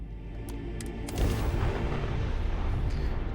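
Deep booming cannon blasts in the video game Starfield, a sharp low thud followed by sustained heavy rumbling through the game soundscape, no talking.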